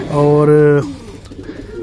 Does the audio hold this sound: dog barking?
no